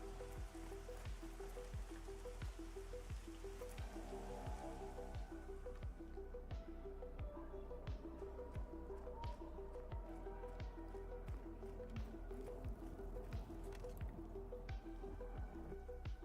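Steady rain outdoors, a constant wash of drips and pattering drops that runs on evenly, with a faint repeating musical tone sitting underneath.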